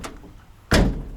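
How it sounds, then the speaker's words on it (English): A Suzuki Jimny JA11 door under restoration swings shut with a single solid, loud thunk after a brief faint clatter, close by and otherwise quiet. "That closes better than the other door."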